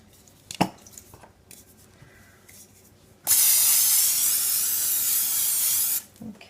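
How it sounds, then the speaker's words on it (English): A steady broadband hiss of cooking spray sprayed into a muffin tin lasts about three seconds, with faint handling clatter before and after. "Let's spray it with some cooking spray"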